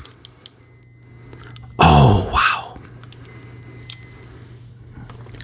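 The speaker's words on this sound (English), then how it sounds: "It is a loud, piercing beep." A loud, piercing electronic beep of almost 85 decibels from a 1993 RadioShack 22-174B sounds in two long bursts, with a person exclaiming briefly in between.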